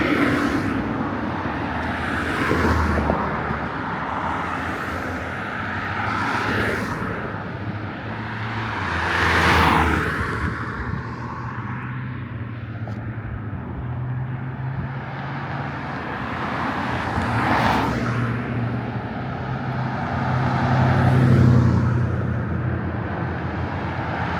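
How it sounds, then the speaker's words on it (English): Cars pass on Galleria Drive in Henderson, Nevada: a steady roadway rumble with several vehicles swelling and fading one after another, fairly loud and close, with no talking. "Just gotta wait for these cars now."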